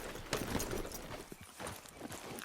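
Horse hooves clip-clop in the video game Red Dead Redemption 2 on PS4, with a steady, fairly close trotting rhythm that runs throughout.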